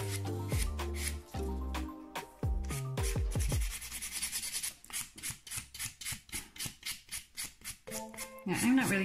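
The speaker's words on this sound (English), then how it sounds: "I'm not really putting any pressure to this, I'm literally just lightly buffing." Light buffing strokes across acrylic nail extensions near the cuticles, a soft rhythmic rubbing with almost no pressure that repeats in quick even passes, set against background music and occasional talk.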